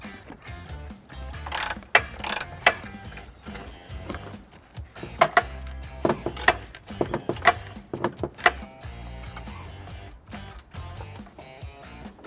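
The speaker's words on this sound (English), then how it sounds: "we're going to be removing two bolts" A ratchet removes the bolts holding the carbon canister on a 2016 Hyundai Elantra GT during a trailer hitch installation, giving close, irregular bursts of clicking and metallic knocks with short pauses between them and no speech.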